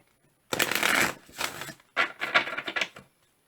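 Starseed Oracle cards are shuffled in several quick riffling bursts of close, crisp card flutter, separated by short pauses in an otherwise quiet room.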